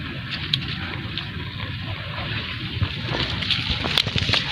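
Water of a big river flowing and sloshing, a continuous rough wash with occasional splashes that grows busier toward the end, heard outdoors without speech.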